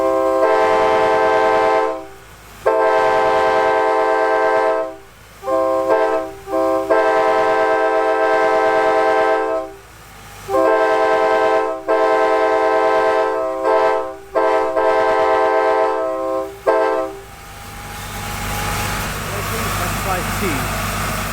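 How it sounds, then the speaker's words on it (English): K5LA horn on an Amerail Metra cab car sounding in a series of loud sustained multi-tone blasts with brief gaps, alone, followed by quieter background noise at the end. "K5LA off the Amerail Metra Cabcar"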